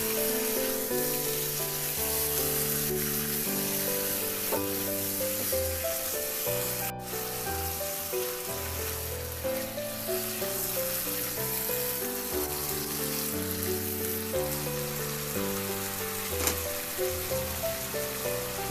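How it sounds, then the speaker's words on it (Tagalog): Dried fish being stir-fried with oyster sauce in a pan, giving a continuous sizzling and scraping sound that runs steadily throughout. "Ihalo lang hanggang sa mag-reduce lang din yung tuyo at oyster sauce."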